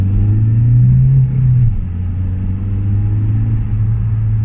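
A 2009 Mitsubishi Lancer diesel engine revs up near and steady inside a low, sporty car, a deep idle hum rising briefly, then dropping back to a constant low drone.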